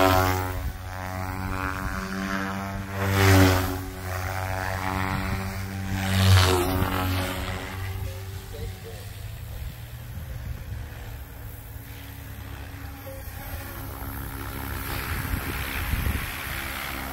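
A Goosky RS4 Venom RC helicopter flies with a steady buzzing rotor and motor drone, swelling twice as it passes close before settling into a continuous whir.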